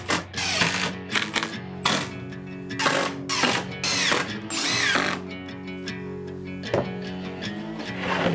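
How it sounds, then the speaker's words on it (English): A power drill drives screws through a 3/4 inch plywood piece onto a lid, several short whirring bursts with pauses between, close and loud. "glue and screw a 3/4 inch piece of plywood on our lid to accept our concrete insert"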